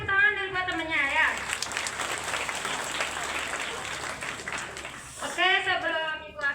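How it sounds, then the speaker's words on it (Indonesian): Students in a classroom clap for a classmate, a few seconds of moderate, steady applause framed by a teacher's voice talking before and after. "Oke, tepuk tangan dulu buat temennya ya."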